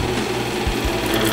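A Gaf 8mm film projector on rewind, its motor running loud and steady while the loose film end flaps rapidly against the reel, a dense continuous whir with no voices.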